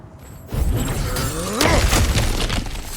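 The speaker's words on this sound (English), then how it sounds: "Ah, back to smashing through things for fun and profit" Objects shattering and breaking apart in God of War Ragnarök, a loud crash starting about half a second in and a second heavier burst of splintering debris midway, with no talk.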